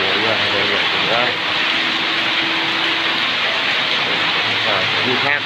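Heavy, steady rain pours as a loud continuous wash, with a faint low tonal hum and faint background voices beneath the downpour.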